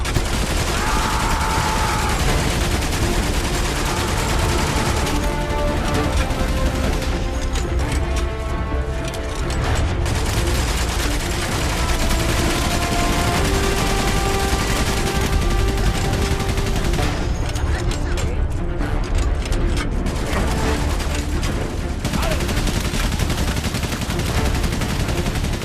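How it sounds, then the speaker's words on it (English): Dense, continuous machine gun fire and explosions in the World War I video game Valiant Hearts: The Great War, loud and unbroken, with rapid bursts layered over rumbling battle noise. "All about timing with those machine guns there."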